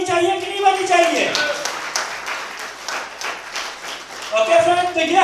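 An audience breaks into clapping in the middle of a talk at a product presentation, a few seconds of dense applause with speech before and after it.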